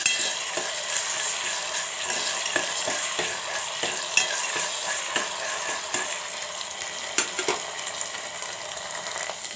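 Onions, green chillies and ginger garlic paste frying in hot oil for a curry, a constant sizzle with repeated scrapes and knocks of a spoon stirring the pan, close up and without talk.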